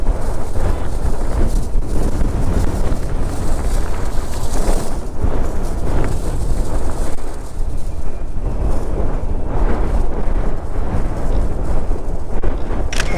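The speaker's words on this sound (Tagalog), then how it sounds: "Lakas ang hangin." Strong wind at a hibiscus camp in Batangas buffets the microphone, a loud, continuous roaring rush that surges and dips close up for the entire stretch.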